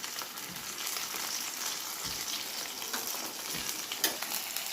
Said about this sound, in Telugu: అల్లం వెల్లుల్లి పేస్ట్ పచ్చివాసన పోయేంత వరకు కలుపుకోవాలి.